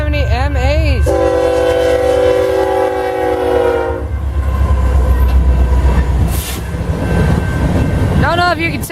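A freight train led by locomotives, the second an SD70MAC, rolls past close by with a loud horn blast, a deep steady rumble and clatter of wagons, and brief wheel squeals near the end.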